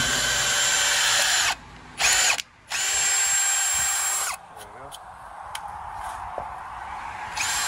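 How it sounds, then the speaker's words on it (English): Power drill boring into wood with a 5/16 inch bit while building a site-made wooden window sash for a traditional double-hung window; loud steady whine in bursts with brief pauses, then tapering off. "A 5/16 inch drill bit."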